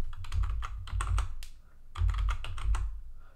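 Rapid keystrokes on a computer keyboard while playing the horror game Five Nights at Candy's Remastered, close and fairly loud, in two quick bursts separated by a brief pause, with a low rumbling hum underneath and no voices.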